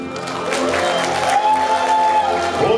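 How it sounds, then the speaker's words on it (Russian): A festival audience gives stormy applause at an opening ceremony in Kaluga: dense, even clapping that fills the whole stretch, with a faint tonal voice or sound running through it. "Бурные аплодисменты."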